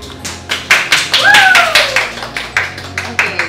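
An audience claps together at a culinary school Christmas cooking demonstration, sharp regular claps falling in a steady rhythmic beat, with a brief high vocal whoop rising over them partway through.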